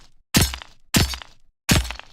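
Video game hurt effect for taking spike damage: three identical sharp, crunchy impact bursts fire at an even pace about half a second apart, each cutting off abruptly into silence.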